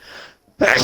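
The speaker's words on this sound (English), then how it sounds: "Bless you." A single sharp, loud sneeze bursts out after a brief breathy intake and a moment of quiet, close to the listener.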